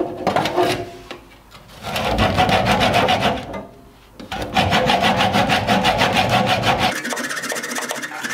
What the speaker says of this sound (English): hacksawing an 8mm bolt with a blunt hacksaw blade takes quite a bit of time